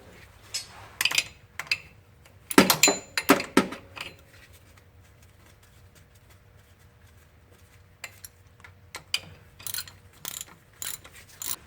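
Ratchet wrench tightening a bolt on a Ford Super Duty V10 4R100 transmission: bursts of quick metallic clicks around two to four seconds, then scattered shorter clicking runs near the end, with quiet gaps between.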